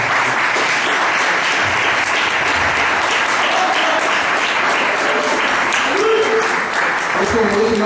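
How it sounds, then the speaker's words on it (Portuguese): Church congregation applauding during a worship service, a loud, sustained wall of clapping across the whole stretch, with voices rising above it near the end. "Aplauda o Senhor por esta palavra."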